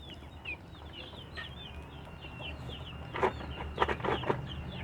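Free-range village chickens cluck and chirp on a farm, soft scattered calls at first, then a louder burst of close clucking near the end, with no talk.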